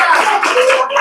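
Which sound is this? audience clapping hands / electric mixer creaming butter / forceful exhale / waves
audience clapping hands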